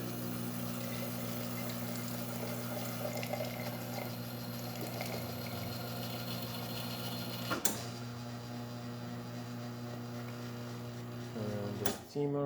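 A La Marzocco GS3 espresso machine dispenses hot water with a steady pump hum and hiss of flowing water, a sharp click partway through and a shift in tone near the end.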